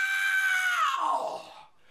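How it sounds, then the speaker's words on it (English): A person lets out a single drawn-out, high-pitched scream that holds steady, then slides downward and fades into breathy noise near the end, loud and alone. "now let's try this whole screaming thing"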